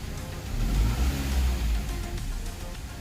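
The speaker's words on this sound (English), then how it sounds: "I don't want to rev it. Should I rev it? Let's give it a 1500." The engine of a Chevrolet Cavalier LS Z24, working after an alternator replacement, swells in a short rev to about 1500 RPM, then settles back into a low, steady idle, heard up close.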